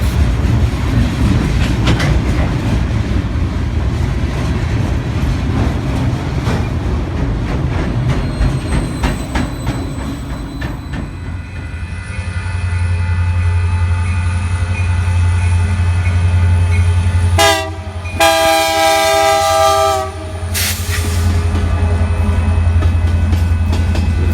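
Freight train rolling past in Kansas City with an old Conrail boxcar in the consist, steady rumble and clickety-clack of wheels, some squeal, then a loud sustained horn blast near the end.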